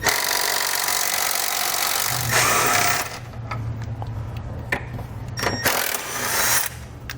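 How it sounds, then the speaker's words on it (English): An impact or power tool spins an 18mm socket to loosen and remove hitch hanger bolts on a 2015 Ford Explorer, a loud sustained whir that drops to a lower hum, followed by scattered metallic clicks and rattles nearby. "We're going to have an 18mm socket and loosen and remove them."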